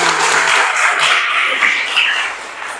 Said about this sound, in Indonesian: Tepuk tangan dulu buat Ubaidillah.